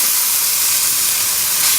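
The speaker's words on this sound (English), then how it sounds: "it's sizzling away like mad now because my fire's going there" Food sizzles over a campfire in a continuous bright hiss, loud and close, with no voices.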